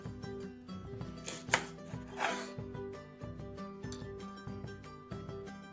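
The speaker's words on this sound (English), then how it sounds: "The onions, you would like to cut them in fine strip or julienne style." A knife cuts onions into fine julienne strips on a board, giving quiet, evenly spaced taps in a steady rhythm with a couple of louder scraping strokes.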